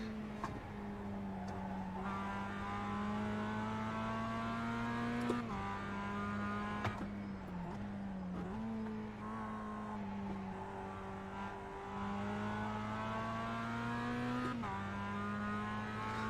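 A Mazda MX-5 Cup race car engine in the iRacing sim drones steadily at high revs, with repeated dips and climbs in pitch as gears shift, loud and continuous with no talking.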